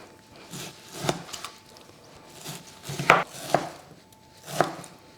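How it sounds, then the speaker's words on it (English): A knife chops through semi-frozen venison on a cutting board, giving about half a dozen crisp, uneven strikes close by, with quiet pauses between the cuts. "If these are semi-thawed, so still a little bit frozen, they're way easier to cut up too."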